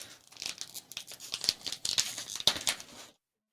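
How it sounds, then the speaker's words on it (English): Scissors cut open a sealed packet of Thai chips, giving a quick series of close, crisp snips amid crinkling plastic over about three seconds before it goes quiet. "maybe just cut it with the scissors"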